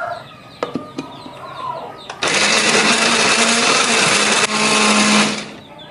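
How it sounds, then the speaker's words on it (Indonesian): A few clicks and taps, then a blender whirs loudly for about three seconds, grinding spices steadily before cutting off; birds cluck faintly in the background. "Ini akan kita blender."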